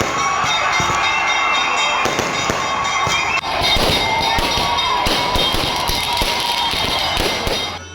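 Fireworks going off at a village temple celebration for a Kali goddess in Tenkasi, with loud, close, rapid crackling bursts and pops packed densely for eight seconds.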